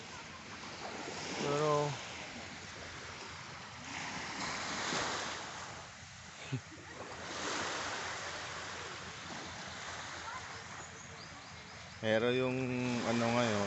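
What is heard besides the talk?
sea waves on the beach at high tide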